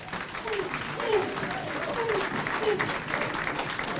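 Church congregation at a Sunday worship service applauding and acclaiming, a steady wash of clapping lasting several seconds with voices and music tones mixed in throughout.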